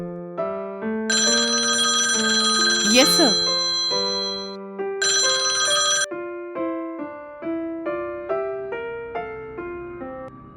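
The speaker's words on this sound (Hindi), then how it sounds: "पुलिस स्टेशन में सुबह सुबह फोन की घंटी बजने लगी" A melodic phone ringtone plays repeatedly in bright electronic tones in a police station, with a brief spoken reply cutting in partway through.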